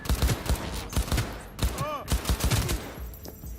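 Rapid bursts of automatic gunfire from Cyberpunk 2077 combat in a hostile zone of Mega Building H8, loud and continuous with short pauses between volleys, set against dense game-action noise.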